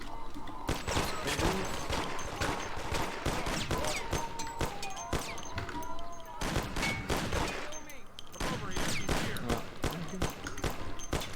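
Thompson submachine gun fire in the video game Mafia, with dense, rapid bursts of automatic shots repeating loudly throughout, broken by short gaps between volleys.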